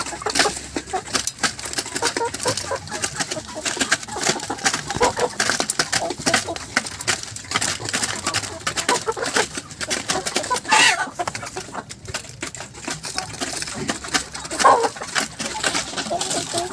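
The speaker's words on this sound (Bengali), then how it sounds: "মুরগি এখন খাওয়া দাওয়া চলছে।" A flock of 65-day-old Kuroiler chickens clucks busily while feeding, a dense, continuous chorus of overlapping calls heard close by.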